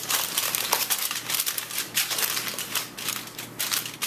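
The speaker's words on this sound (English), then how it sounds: "Now this dish gets covered with foil." Aluminium foil crinkles and crackles steadily as it is pressed over a cheese-topped lasagna dish, a close, continuous rustle with small sharp bursts throughout.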